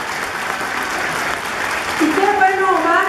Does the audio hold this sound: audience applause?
yes